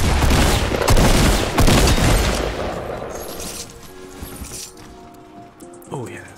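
Gunfire in the Fortnite battle royale game, a loud burst of shots and booms packed into the first two seconds and then dying away into quieter game noise, with a voice talking over it.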